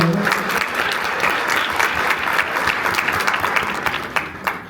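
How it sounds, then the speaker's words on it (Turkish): A seminar audience at an Atomy camp in Antalya breaks into loud, dense applause that stays even throughout and tapers slightly near the end. "İşte burada işte bir alkış rica edeceğim."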